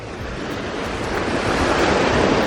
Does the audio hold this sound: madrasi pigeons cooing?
no